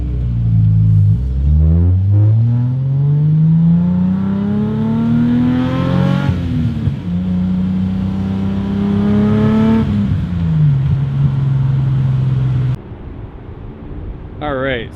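A Nissan S30 Fairlady Z, fitted with a resonator, a muffler and coilovers, has its engine revved up into a loud, droning exhaust tone. The tone holds, dips and rises again, then drops back to idle, close by.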